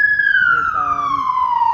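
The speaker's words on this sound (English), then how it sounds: "I'm sorry about the sirens." Near a hospital, an emergency vehicle siren sounds a single loud, clear wail that slides steadily downward in pitch, heard up close over faint background noise.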